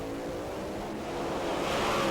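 Drag racing cars launching side by side at Santa Pod during the 1995 Summer Nationals, a steady loud engine roar that builds in intensity toward the end, with no voices over it.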